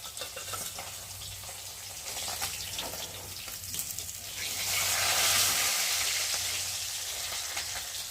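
Tilapia pieces fry in hot oil, a continuous close sizzle with scattered crackles that swells louder midway, heard alone without talk.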